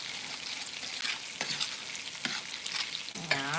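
Pasta sauce with garlic salt stirred in a sizzling pan, a steady fry punctuated by sharp scrapes and clinks of the spoon against the pan and a ringing knock near the end.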